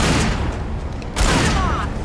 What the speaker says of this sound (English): Oh no! Oh no! Shooting!